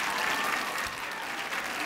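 An audience applauds award category winners at a mock trial segment event, a dense, steady wash of clapping from a crowd filling the whole short stretch at an even level.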